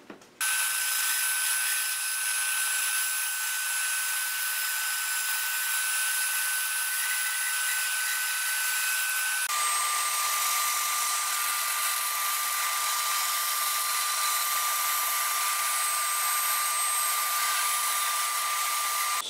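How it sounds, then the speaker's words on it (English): A bandsaw cuts away material on a small handmade wooden bow, a steady high whine with a hissing cutting noise that holds throughout and shifts pitch slightly halfway. "So I'm going to remove this material here with the bandsaw"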